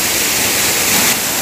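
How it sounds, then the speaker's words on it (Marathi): A small waterfall in the Konkan hills pours with a loud, dense, continuous rush of water, close by and steady throughout, with no other sounds breaking through. "अजून एक छोटासा धबधबा आहे आणि पाण्याचा आवाज भरपूर येतो"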